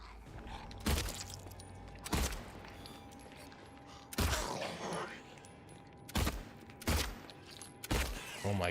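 Gunfire at monsters in Silent Hill 2, about six sharp, loud shots spaced irregularly a second or two apart, each a hard crack with a short tail over a quiet, creaky game ambience.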